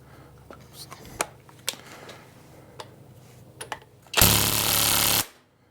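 An impact wrench works on a 21 mm starter nut in a single loud, sustained burst of about a second, after a few scattered clicks and handling knocks.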